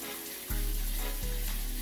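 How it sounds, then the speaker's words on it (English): Water from a shower head fitted with an AquaSource filter starts with a sudden hiss and keeps up a steady spray, with a brief surge partway through. The spray is fairly quiet and close. "Water's coming out."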